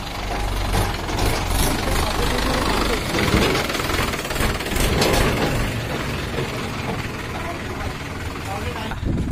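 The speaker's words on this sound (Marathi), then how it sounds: "ट्रॅक्टर आला रे." A tractor engine approaches and runs loudly throughout at a village Ganpati immersion, its heavy rumble continuous and close amid crowd voices and shouting.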